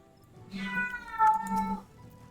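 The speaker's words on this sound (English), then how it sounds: "My cat has a discussion with everything at the moment, I think." A pet cat meows a couple of drawn-out, tonal times in quick succession, fairly close and clear against a quiet indoor room, with no one talking.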